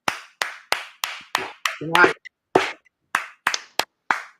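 Audience clapping at the end of a live show, heard as a series of sharp, evenly spaced claps close by, with a voice speaking briefly in the middle.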